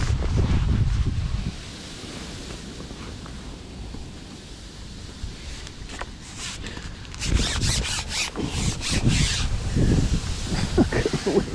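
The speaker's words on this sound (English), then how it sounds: "Look at the wind." Wind gusting across a Thames riverbank during a winter club fishing match, roaring steadily into the microphone, easing for a few seconds and then buffeting harder again in uneven bursts.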